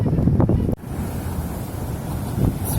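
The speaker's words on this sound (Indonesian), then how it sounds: "Sebelah sini juga lumayan gede ombaknya." Large Red Sea waves on a beach in Jeddah wash in with a churning surf rumble, buffeted by heavy wind noise on the microphone, with a sudden dip partway through before the rush builds again.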